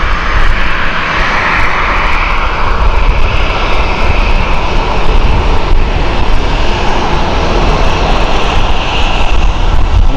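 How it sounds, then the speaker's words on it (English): Airbus A350 jet heading out at Amsterdam Schiphol Airport: a loud, steady roar of engines holds without a break, broad and rushing with a hissing top, close by and with no talk over it. "And the A350 is heading out."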